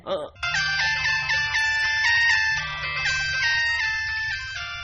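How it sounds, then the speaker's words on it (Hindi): A phone rings with a bright electronic melody ringtone, repeating steadily for several seconds after a brief voice at the start. "ये अरे फोन की घंटी बज रही है"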